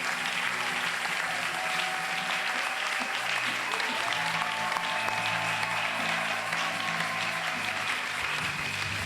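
A church congregation applauds during a worship service, with dense, sustained clapping from a large crowd filling the room, steady and loud throughout while voices speak underneath.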